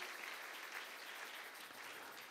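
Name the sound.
congregation applause in church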